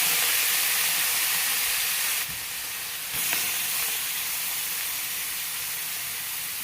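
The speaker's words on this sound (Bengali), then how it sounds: "এখন দ্বিতীয়বার মাছটা দিচ্ছি।" A second batch of fish is frying in hot oil with a dense, steady sizzle that dips briefly partway through, then carries on evenly with no voices over it.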